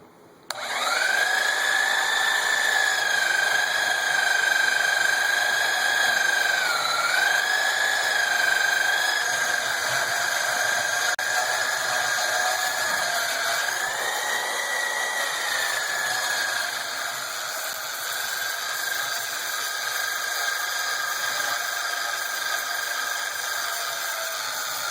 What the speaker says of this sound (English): I'm just going to bulk cut them off at the portaband, and then I'll grind them the rest of the way off.